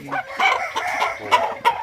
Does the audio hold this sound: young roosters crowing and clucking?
yes